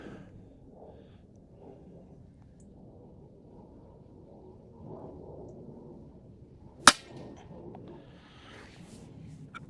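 An Air Arms X200 Vanguard air rifle fires outdoors over a 40-yard range, one sharp crack standing out against a quiet windy background with faint rustle.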